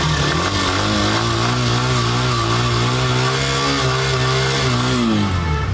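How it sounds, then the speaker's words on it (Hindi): A 125 cc motorcycle engine idling loudly nearby, a steady low putter with slight rises in revs, continuous with no talking. "एक बार गाड़ी को स्टार्ट करके साउंड सुन लेते हैं"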